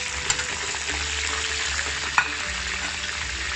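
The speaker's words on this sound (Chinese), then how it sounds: "大火炸至它大约30秒" Pork belly coated in shrimp paste deep frying in hot oil over high heat, a dense continuous sizzling roar with a couple of sharp pops and clinks, close and loud, with no talking.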